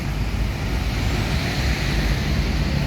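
An Aero 8 Touring Hino RK bus passes close by, a loud, steady low engine rumble mixed with road noise that fills the whole moment.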